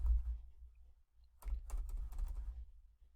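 Computer keys tap in a quick short burst, close and soft, after a brief pause with low background rumble.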